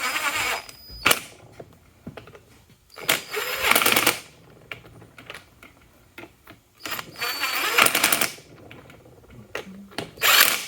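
A power tool tightens bolts in a crisscross pattern while installing a Torq locker in a Jeep TJ Dana 30 axle, firing in several short, loud whirring bursts separated by quiet pauses.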